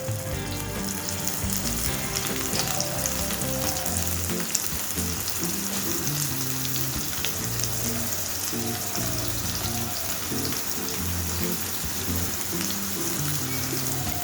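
Squeezed-out soya chunks frying in hot oil in a wok, a dense continuous sizzle and crackle throughout, close and steady with no talking.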